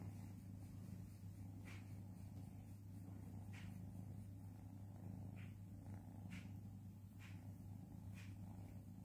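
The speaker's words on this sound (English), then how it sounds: "she can hear purring" A cat's soft, steady purr hums low and continuous beneath a constant background drone, with a few faint higher chirps scattered throughout.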